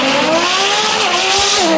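A drag racing car roars past at high speed during the DCT World Cup meet, a loud sustained engine howl whose pitch climbs and sweeps steadily for nearly two seconds with no talking.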